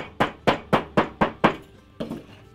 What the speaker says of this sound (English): I can use my hammer with a rounded edge, or I can use a large ball peen hammer or anything